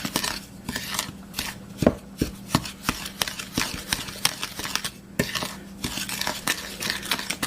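Sugar being mixed into corn bread batter in a bowl, with a quick series of sharp knocks and scrapes of a utensil against the bowl, close and fairly loud, with no voices.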